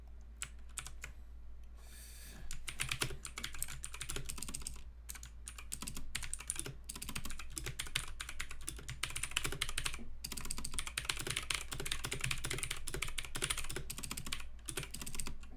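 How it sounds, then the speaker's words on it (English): Steady typing on a new computer keyboard, dense clicking keystrokes close to the microphone, continuous with brief pauses, over a low constant hum, with no talking. "Please the noise. I've got a new keyboard for Christmas."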